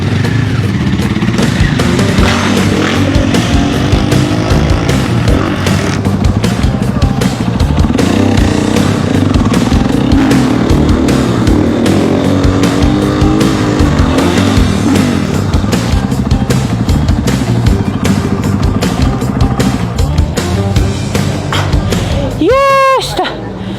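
A motorcycle is ridden in the countryside, its engine a loud, continuous drone that holds steady for the whole stretch, with voices faintly mixed in.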